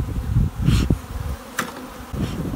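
Honey bees buzz around a strong colony that is ready to be split, a close, uneven hum that swells and fades, with a few sharp, brief bumps and rustles.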